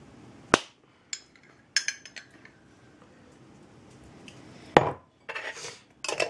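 A spoon scrapes and knocks against a bowl while spice cake batter is mixed with orange marmalade, giving a few sharp clinks and taps between quiet stretches, with a louder cluster of knocks near the end.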